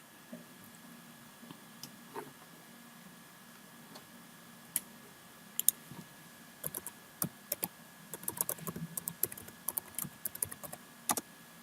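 Scattered keystrokes on a computer keyboard while logging on, sparse at first then a quicker run of sharp, close clicks toward the end.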